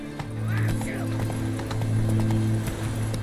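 A horse being ridden in the video game The Witcher 3: Wild Hunt, its hooves clip-clopping at a steady pace over a constant low hum, with a short snort or neigh early on, soft and slightly distant.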